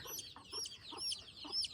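Young desi chickens clucking during eye-drop vaccination, a series of short close clucks and chirps repeating about every half second.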